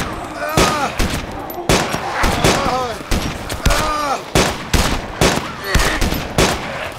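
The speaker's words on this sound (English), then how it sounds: "Can we shoot the zombie, guys?" Repeated gunshots from the DayZ video game fire in loud, sharp bursts as players shoot at a zombie, the shots coming in quick irregular volleys with voices talking between them.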